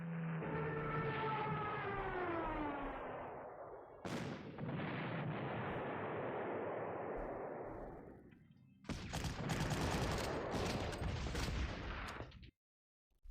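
Gunfire and blasts from a WWII strategy game, Panzer Corps, striking an anti-aircraft gun: three loud, sustained bursts of booming fire in quick succession, each decaying before the next, ending with a sharp cutoff.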